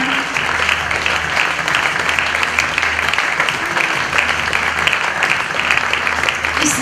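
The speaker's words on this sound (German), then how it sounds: "Ein großer Applaus für das Verbeugen." A dance school audience applauds the dancers' bow at a recital, loud continuous crowd clapping filling the whole stretch with a low hum underneath.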